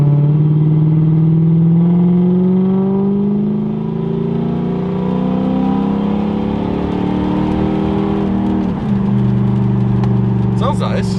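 A Lexus LS 400 engine runs close by with a steady, droning hum that climbs slightly in pitch and dips briefly near the end. People talk over the engine throughout.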